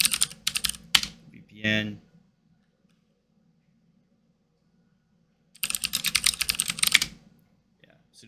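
Computer keyboard typing for a terminal command on a Linux machine, in quick clattering bursts near the start and again later, with someone briefly speaking and a pause between.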